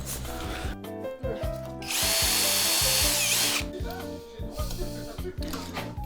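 A power drill bores holes in wood during woodworking, its motor whining loud and close in repeated short bursts, then one long sustained run, then further bursts.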